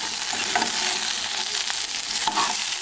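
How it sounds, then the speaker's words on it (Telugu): Okra in a curd-based tempering curry being stirred with salt as it fries in the pan, giving a continuous close sizzle with scraping stir strokes throughout and no talking. "బాగా కలుపుకొని"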